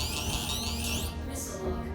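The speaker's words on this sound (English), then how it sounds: "Missile lock." A missile-lock warning alarm in the space game Star Citizen beeps in a fast repeating pattern over a steady cockpit hum, with no one speaking.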